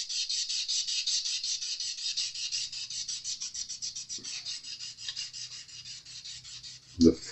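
An ultra-fine Scotch-Brite-style emery pad rubs back and forth over the frets of a Fender Spark-O-Matic guitar during fret dressing, giving a steady, close, rapid rasping scrub that ends in a brief thump.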